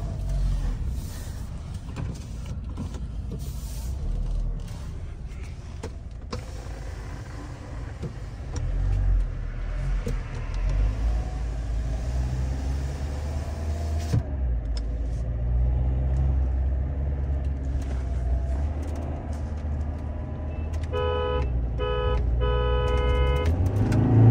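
A tuned Tata Harrier and a Skoda Kushaq accelerate side by side in a drag race, engines rumbling loudly and steadily building in volume, with a few electronic beeps near the end.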